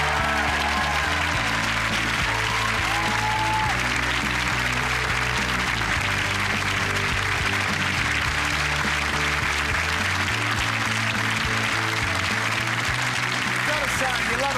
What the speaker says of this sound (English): You love a bloke who comes out clapping.